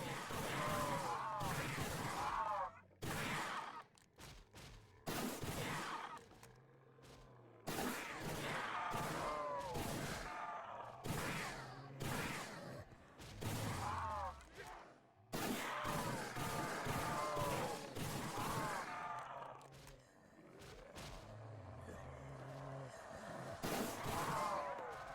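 The Better Days shotgun fires in Roblox Project Lazarus, with loud, sharp blasts repeating at a steady pace, each followed by a short pumping or reloading clatter, and faint voices underneath.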